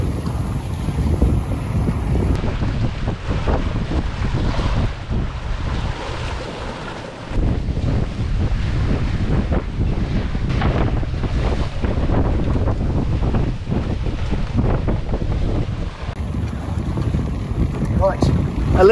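A sailing yacht beating to windward during the Round the Island Race 2021, heavy wind buffeting and rushing water around the hull, loud and steady throughout, with a brief dip in the middle.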